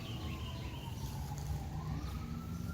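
Emergency vehicle sirens wail after a tornado strikes a home in Harrison Township, rising and falling faintly in the distance, steady throughout with no talk.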